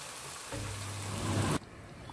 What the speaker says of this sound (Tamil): பச்சை மிளகாய் போட்டு தாளிச்சிடணும்